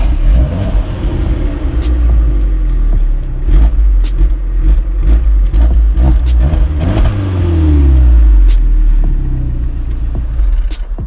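Car exhaust revving close by, a loud, deep rumble climbing and dropping through several sharp blips with a longer sustained rise near the end, no voices over it.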